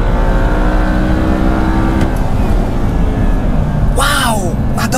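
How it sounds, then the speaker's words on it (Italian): Audi R8 engine running loudly and steadily, a continuous deep drone with a brief sharp rev flare near the end, close by and dominating throughout. "Ma sentite questo motore qui"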